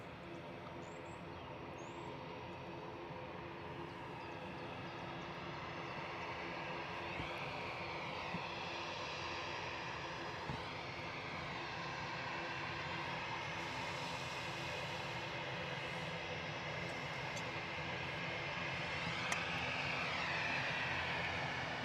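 An EasyJet Airbus A319 departs Manchester Airport for Malaga, its engines producing a steady, broad roar that builds slightly and holds throughout at a moderate distance, with no one speaking.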